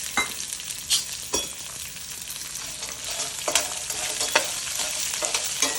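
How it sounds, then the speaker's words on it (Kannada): Garlic, cashews and peanuts fry in a pan with steady crackling sizzle and repeated scraping stirs throughout, no voices. "ಗಾರ್ಲಿಕ್, ಗೋಡಂಬಿ ಮತ್ತು ಶೇಂಗಾ ಹಾಕ್ಕೊಂಡು ಹುರ್ಕೋತಾ ಇದ್ದೀನಿ."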